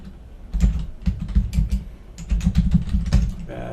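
Rapid, irregular keystrokes on a computer keyboard while entering a building maintenance work order, close and fairly quiet, with a few short pauses between bursts and no talking.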